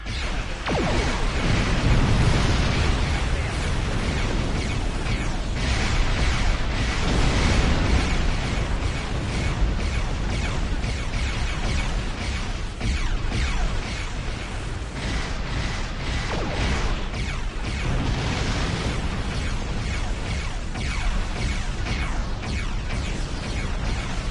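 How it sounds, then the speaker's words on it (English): Ship cannons firing and explosions in the Star Trek Online space game, a dense, continuous barrage of booms, bursts and whooshes that stays loud and relentless throughout, with no talk. "They've powered up defensive cannons and launched small craft."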